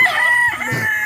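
A rooster's crow rings out loud and near, a drawn-out call with short clucks near its end, from breeding broodcocks and hens.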